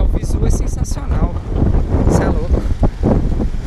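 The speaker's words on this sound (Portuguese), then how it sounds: "tá um vento sul geladinho" Cold south wind buffeting the microphone outdoors in a park, loud, rough low rumbling gusts that keep rising and falling, with bits of voices mixed in.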